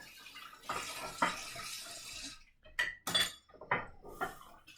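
A bowl being rinsed in a kitchen: running water splashes for about two seconds, then several short clinks and knocks of the bowl against the sink, close and moderately loud, with no talking.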